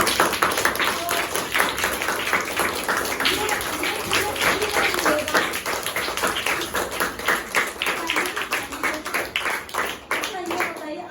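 An audience claps hands for several seconds, a lively patter of individual claps that are close and distinct, with voices mixed in before the clapping thins toward the end.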